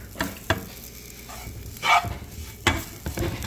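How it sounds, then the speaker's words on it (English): Mixed vegetable curry with tofu sizzles in a pan as it is stirred, with a steady frying hiss broken by several scraping strokes of the spoon, close and fairly loud, no speech. "let's give it a little more mixing and see how the aroma is hitting the senses"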